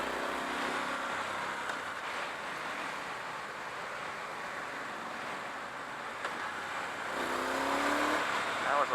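A 2018 Triumph Street Scrambler twin engine roars under full throttle, a loud sustained drone over wind rush that climbs in pitch toward the end, with a rider talking over it.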